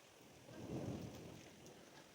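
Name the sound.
thunder and heavy rain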